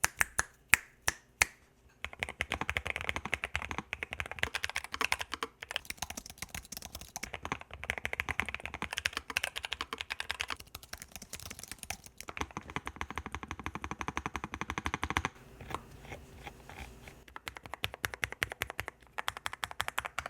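Rapid clacky keystrokes from a Nuphy Kick75 low-profile mechanical keyboard, steady bursts of typing after a few sharp isolated taps, close and fairly quiet with no talking.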